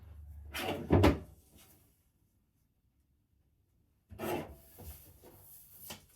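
Journal paper being trimmed to size makes two short bursts of scraping and rasping cuts, close and fairly loud, separated by a few seconds of silence.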